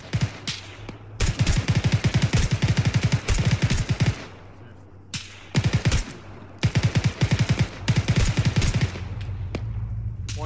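Arma 3 gunfire: loud sustained bursts of rapid automatic fire in several long strings separated by short pauses, close and dominant.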